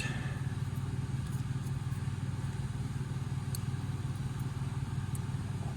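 The fan on a 31-year-old York air conditioning unit runs with a steady, loud mechanical drone and a rhythmic clattering flutter, continuous throughout with no voices.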